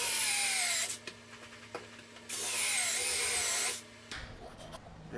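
A power drill fitted with a hole saw grinds through natural travertine stone in two loud bursts of a couple of seconds each, separated by quieter pauses with small clicks and handling noise.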